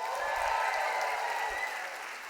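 Conference summit audience breaks into sustained applause and cheering, a dense steady wash of clapping that fades slightly toward the end.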